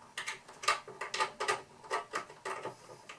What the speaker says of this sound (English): I use a swivel head here and then on the end of my ratchet